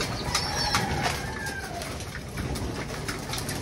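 Pigeons or doves being fed, with soft cooing, a few short calls and bursts of wing flapping close by over a steady outdoor background; no talk.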